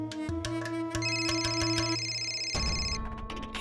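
A phone ringtone for an incoming call plays alone at steady loudness, a melodic electronic tune of repeating tones that shifts to a new phrase near the end.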